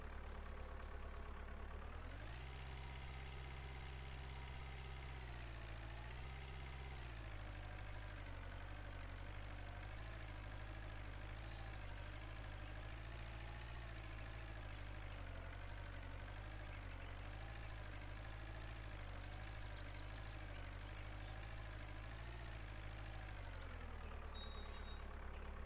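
A tractor engine in the video game Farming Simulator 2013 runs continuously with a steady, deep, droning hum that shifts pitch slightly as it revs, loud and alone with no talk.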